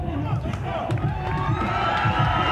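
A crowd at a 1995 Arnold Classic bodybuilding contest cheers and shouts steadily throughout, a dense, continuous roar with whoops rising over it and no clear pauses.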